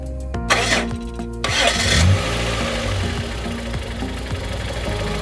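A Suzuki car's M16B 1600 cc engine cranks briefly, catches with a rev and settles into a steady, smooth idle, close and loud throughout.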